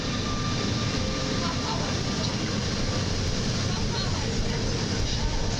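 PKP Intercity TLK passenger train hauled by a Griffin locomotive on platform 6 at Warszawa Zachodnia, a steady broad rumble of rolling stock close by, continuous and loud throughout with no clear pauses.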